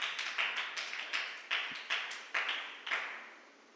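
A few people clapping in a sparse, uneven rhythm of about a dozen crisp, close hand claps, with no other sound behind them.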